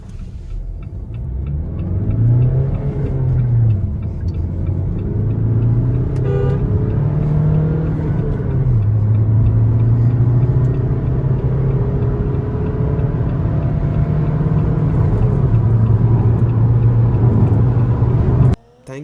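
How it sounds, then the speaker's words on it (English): A Jeep Compass Limited Plus 4x2 accelerates hard from standstill in first gear with traction control and AC off; the loud engine note climbs and swells steadily before cutting off abruptly at the end. "So now let's do my favorite part, 0 to 100 acceleration."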